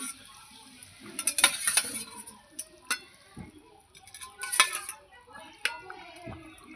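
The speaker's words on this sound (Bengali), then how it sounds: "মাছগুলো সব দিয়ে দিচ্ছি" Hilsa fish pieces are dropped into a pot of pumpkin curry, giving a few clinks and scrapes of utensils against the pot over a faint sizzle, close by and intermittent.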